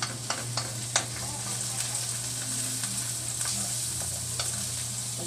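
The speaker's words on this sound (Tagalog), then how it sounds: "Gigisa lang naman natin itong bawang, sibuyas, saka yung chicken natin" Garlic, onion and chicken frying in a pan for a home corn soup dinner: a steady close sizzle with occasional sharp stirring scrapes, no talking.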